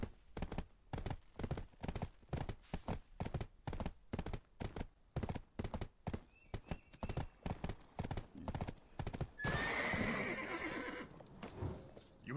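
Rhythmic hoofbeats of a mare in the video game Black Desert Online clop steadily at a walk, close by, followed by a loud horse whinny near the end.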